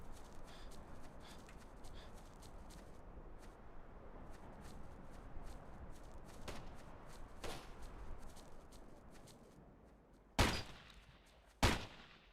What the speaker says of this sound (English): I can't see where those shots are coming from.